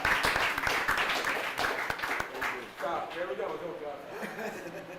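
Audience clapping at a press conference for the Ijebu Premier League draw, brisk claps up front fading into chuckles and chatter in the room.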